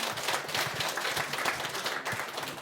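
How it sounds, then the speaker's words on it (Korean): Audience at a meeting of newly qualified damage assessors applauds, dense continuous clapping at moderate loudness throughout. "자, 큰 박수."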